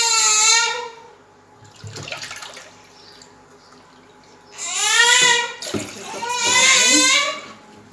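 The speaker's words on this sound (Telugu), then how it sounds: "నేను 2 కప్స్ వాటర్ పోసుకుంటున్నాను." Two cups of water are poured into a bowl while making ragi java, giving splashy pouring bursts that alternate with a person talking and faint household sounds.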